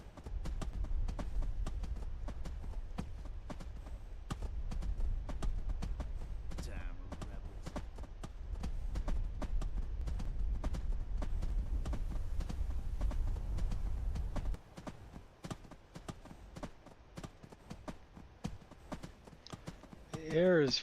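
Hoofbeats of a horse galloping in the video game Skyrim, a steady rapid clip-clop that runs loud and continuous, easing into sparser thuds near the end.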